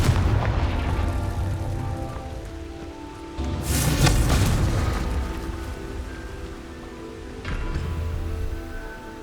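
Rumbling fire-spell explosions in the Hogwarts Legacy video game, a series of deep booming blasts with crackling bursts, the strongest near the middle, over a continuous low roar.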